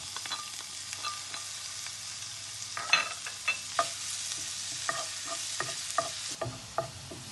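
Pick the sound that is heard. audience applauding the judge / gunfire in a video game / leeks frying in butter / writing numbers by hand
leeks frying in butter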